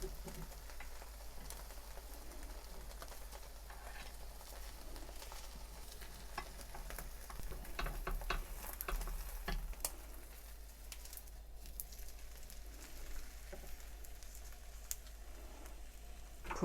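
Thin egg sheet (jidan) cooking in a frying pan on low heat, a faint, steady soft sizzle with scattered small crackles and taps.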